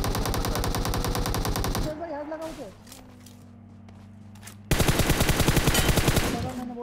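Automatic gunfire from the mobile game BGMI comes as a loud rapid burst, breaks off into a quieter gap with tonal game sounds and some talk, then resumes as a second sustained volley.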